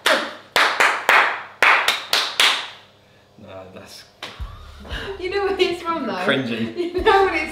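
Rhythmic hand clapping in a football-chant pattern, sharp groups of claps close by, then people chat and laugh once the claps fade.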